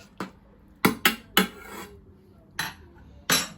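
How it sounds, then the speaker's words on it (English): A spoon knocks and scrapes against a cooking pot while onion and garlic are stirred for Southern-style collard greens, six sharp separate clinks spread irregularly over a few seconds with quiet gaps between. "So now I'm gonna stir it."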